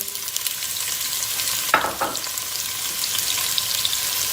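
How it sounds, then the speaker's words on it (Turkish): Onion frying in oil in a pan: a continuous bright hiss of sizzling fat, broken once by a quick spoon scrape, close and fairly loud with no talk. "Soğanı önce iyice bir kavuracağız"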